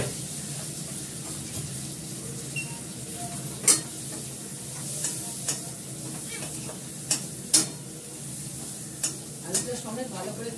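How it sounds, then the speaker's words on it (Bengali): Potatoes frying in a pan over a raised gas flame, a continuous close sizzle with scattered sharp clinks and scrapes of stirring. "আলুটার সঙ্গে ভালো করে কষিয়ে নেব।"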